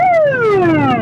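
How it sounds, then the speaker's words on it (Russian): An ambulance siren on a real emergency call in Minsk wails loud and close, one long tone sliding steadily downward in pitch with no talk over it. "Это не заезд с мигалками для камеры, а реальный вызов. Скорая пытается успеть к мужчине"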